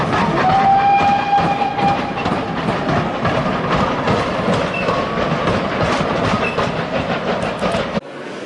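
Flying Scotsman, a Gresley steam locomotive, runs on the Severn Valley Railway with loud, steady rumbling and rhythmic rail clatter, a high whistle-like tone sounding early on before the noise drops away abruptly near the end.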